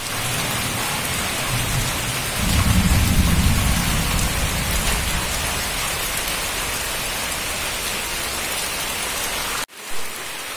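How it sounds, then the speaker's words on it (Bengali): Heavy rain pours steadily on a surface during a storm, and a deep thunder rumble rolls in early on before easing back into the hiss of rain. The sound stops with an abrupt cut near the end. "আর এইদিকে তো জোরে বৃষ্টি চলে এসেছিল"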